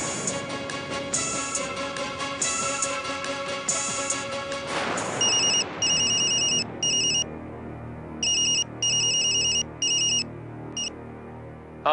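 A telephone ringtone repeats in steady electronic bursts during a repeated call attempt, loud and alone after a dense musical passage fades out in the first five seconds.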